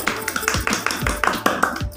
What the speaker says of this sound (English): Very good. Clapping,